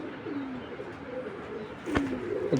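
Pigeons at a pigeon sale give soft, low, repeated cooing calls close by, over a steady background hum.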